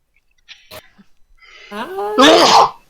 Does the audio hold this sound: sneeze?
yes